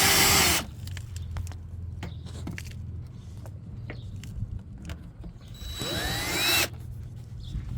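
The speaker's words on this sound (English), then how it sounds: "we had a little bit of an issue drilling into the metal" Two loud bursts of a power drill whining into the metal of a car's underside, one at the start and one near the end, separated by quieter clanking and shuffling.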